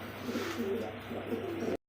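Pigeons at a pigeon market coo in low, soft, rolling notes, close and steady for a couple of seconds before an abrupt cut.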